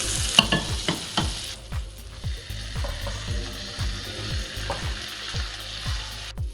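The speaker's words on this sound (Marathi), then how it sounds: "आता कमी मध्येच आपण हे शॅलो फ्राय करून घेणार आहे।" Paneer shallow-fries in a pan over low heat, a steady sizzle broken by quick rhythmic spatula scrapes that repeat evenly throughout, near and alone.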